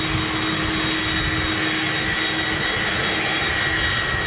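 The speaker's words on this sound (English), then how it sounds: "XWB Rolls-Royce power right there. Full throttle." A Rolls-Royce XWB jet engine at high throttle roars loud and steady throughout, a constant broad rumble with a sustained whine, no talk.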